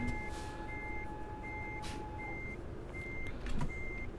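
A truck in the Euro Truck Simulator 2 video game reversing, its backup alarm sounding steady evenly spaced beeps over a continuous engine rumble, with a brief air hiss near the end and no talk.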